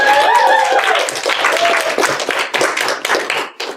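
An audience at a public speaking event applauds for a model, a loud burst of clapping that thins out toward the end.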